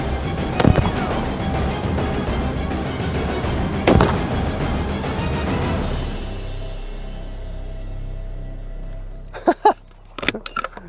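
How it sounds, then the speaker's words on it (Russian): A French Legion .50 BMG rifle fires at tyres from point-blank range, two sharp heavy reports a few seconds apart, with metallic clinks and clatter afterward. "А давайте посмотрим, что будет с покрышками, если по ним пострелять. Стреляю практически в упор."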